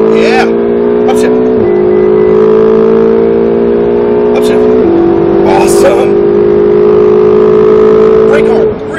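A Ferrari 458 Italia accelerating on a track, its engine note climbing loud and close, then dropping twice at upshifts before rising again, with a voice talking over it.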